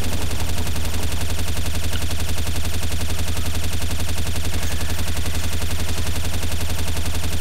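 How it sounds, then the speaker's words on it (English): Relentless automatic gunfire in a Counter-Strike: Source zombie mod match, a loud, unbroken stream of rapid shots with no pauses from start to finish. "I'm just spamming this gun"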